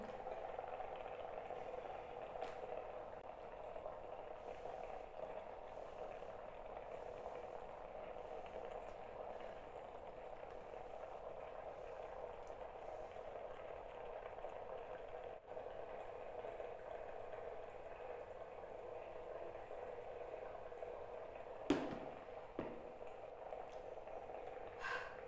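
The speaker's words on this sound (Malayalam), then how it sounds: "നിങ്ങളിത് ഈ വെള്ളം ബോയിലാകുന്ന സൗണ്ട് നന്നായിട്ട് കേൾക്കുന്നുണ്ടാവും" Water boils inside a facial steamer, a faint, steady bubbling hiss with a low hum running throughout and one brief knock near the end.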